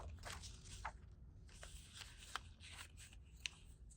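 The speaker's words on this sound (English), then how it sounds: "Crease it with your bone folder." Paper being creased with a bone folder while making a lead graffiti book with a concertina spine guard: quiet, close scraping and rubbing strokes with a few sharper crackles, no talking.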